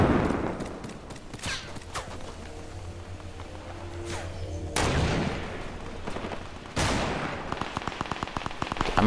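Sniper rifle shots ring out in Fortnite, a few sharp loud cracks separated by pauses, with gameplay noise in between and no talking.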